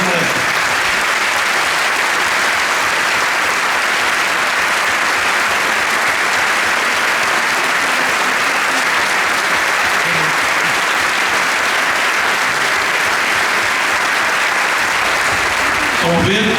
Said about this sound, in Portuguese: que todos recebessem uma salva de palmas para todos merecem